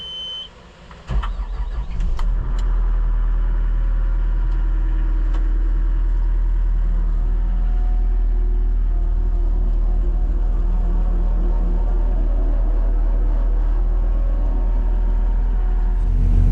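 Tracked dumper's diesel engine starting and then running steadily at a low rumble while reversing onto a trailer, a constant close drone after a brief start-up.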